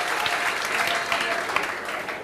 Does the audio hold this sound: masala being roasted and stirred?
no